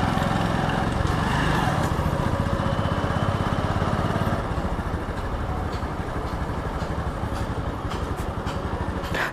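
A motorcycle engine idles nearby in a parking area, a steady throbbing putter that runs loud and close, then settles to a softer, lower idle about halfway through.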